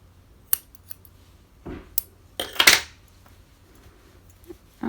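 Scissors snip a yarn end on a crocheted pumpkin succulent cozy, giving a few quiet close-up metallic clicks and one brief crisp cutting snip.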